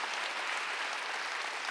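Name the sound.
congregation applauding in church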